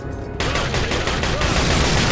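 Rapid bursts of gunfire from Resident Evil 4, loud and sustained, a dense repeating volley that starts abruptly after a brief quieter moment and keeps hammering to the end.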